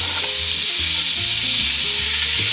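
Butter and oil sizzle steadily in a pot as a Louisiana seafood gumbo roux begins, a broad hiss running throughout with low scraping strokes of stirring underneath, close and fairly loud, no voices.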